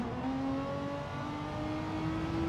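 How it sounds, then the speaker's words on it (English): A race car in Gran Turismo 7 revs hard through the gears during a championship race, a loud continuous engine drone whose pitch climbs steadily, dips at a shift, then rises again, without talk over it. "revving it in 5th gear, 150, then changes to 6th, drops down to 152."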